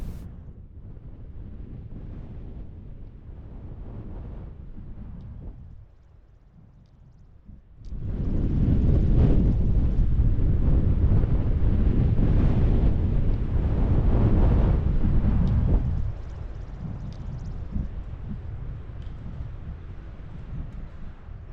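Gusty wind at Cracker Lake, a turquoise mountain lake in the Many Glacier area of Glacier National Park, buffets the microphone with a steady low rumble that swells into a much louder, sustained blast midway and then eases off.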